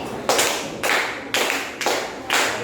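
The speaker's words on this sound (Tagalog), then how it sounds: "Bigyan natin ng 5 palakpak si Maylin" Five separate group claps ring out in a classroom in an even, steady rhythm, each a sharp burst with a short tail, with no talking in between.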